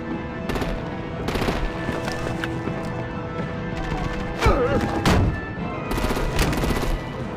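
Gunfire in a Batman video game, with bursts of rapid machine-gun fire and a few heavier thumping shots, loud and close, with talk in between.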